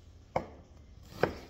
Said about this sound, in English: You're not brunoising the onions, just thin slices.